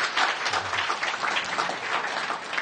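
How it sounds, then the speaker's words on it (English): An audience claps at a scientific symposium held by the McGovern Institute in 2012, a dense, steady round of applause from a crowd, moderately distant and alone, with no voices over it. "we have a round of applause now or we can save it for later"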